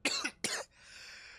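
Two sharp, close coughs in quick succession, muffled and held back, followed by a faint fading tail.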